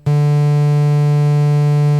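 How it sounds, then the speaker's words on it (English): In Ableton Live, a sine wave pushed through amp saturation turns into a loud, buzzy, harmonic-rich drone. It starts abruptly and holds steady for about two seconds with no talking. "we effectively turned a sine wave into a, you know, jiggity jaggedy something or other with lots of harmonics"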